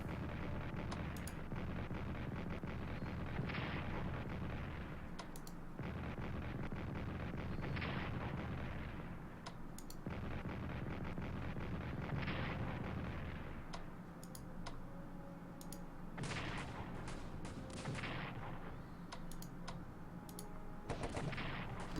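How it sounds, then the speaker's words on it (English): Artillery fire in the World War I strategy game Strategic Command: World War I, heard as a series of heavy booming blasts spaced a few seconds apart over a steady rumbling battle backdrop, with no talking. "I still have some artillery here with 4 shots. Let's take a shot at these guys up here."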